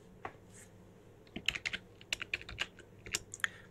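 Keys tap on a computer keyboard during a Linux desktop setup, quiet and close, with a single early click and then a quick irregular flurry of keystrokes spread over a couple of seconds.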